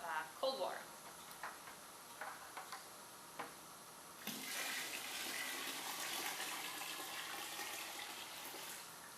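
Cold water pours into a bucket of sweet feed mash, a steady splashing rush that starts partway through after a few faint clicks and knocks.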